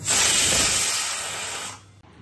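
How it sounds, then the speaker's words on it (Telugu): A pressure cooker of chickpeas with a little salt whistles loudly on the stove, a steady hissing jet of steam that holds for nearly two seconds before cutting off, followed by quiet. "స్టవ్ మీద పెట్టేసి 3 విజిల్ రానిద్దాం"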